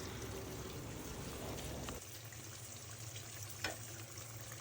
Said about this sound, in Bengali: মাংসটা সিদ্ধ হয়ে গিয়েছে তা আমি কড়াইতে ঢেলে দিচ্ছি